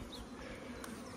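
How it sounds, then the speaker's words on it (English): Calm honeybees in an open beehive hum as a steady, dense buzz close by, continuous and even throughout with no talking. "they're really calm bees anyway, so I don't expect them to be going mad"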